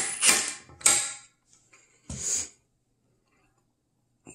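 An impact driver drives screws into a sliding door latch in three short, loud, rattling bursts close by, with quiet pauses in between.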